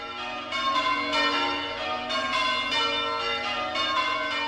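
Church bells ring in overlapping peals, with strikes arriving every second or so. They blend into a steady, resonant metallic wash at moderate volume, with no voices.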